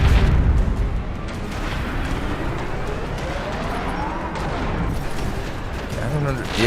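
Gunfire in the Gundam video game XOL: a dense, continuous rattle of shots and booming impacts fills the scene, with swooping tonal game effects layered over it and a voice talking faintly beneath.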